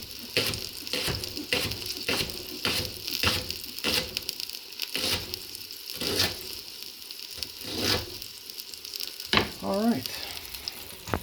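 Bacon fries in a pan with a continuous crackling sizzle, broken by repeated stirring or shifting scrapes at a loose rhythm. One person says a single brief word partway through.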